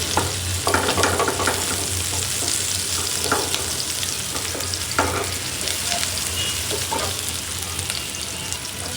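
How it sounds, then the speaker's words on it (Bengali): Chopped onions fry in hot oil with a little fenugreek, a close, continuous sizzle with occasional stirring scrapes and crackles, and no talking. "পেঁয়াজটা ভাজা হোক।"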